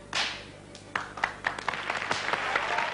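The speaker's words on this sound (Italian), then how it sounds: "Giusto, ma applausi." Audience applause at a 1987 Italian circus show with a lion-taming act in a cage, scattered claps building into steady, moderately loud clapping, with a few sharp louder claps and a voice briefly over it.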